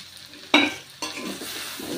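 Potato and onion fritters with coriander leaves fry in hot oil, a sharp burst of sizzle and scraping as they are stirred, then a steady close crackle of frying.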